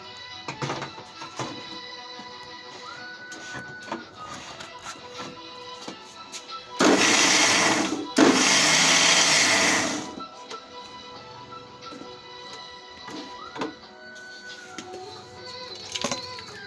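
A mixer grinder churns boiled potatoes for pav bhaji in two loud, roaring bursts of a few seconds each, separated by a brief pause, with quieter kitchen clatter before and after.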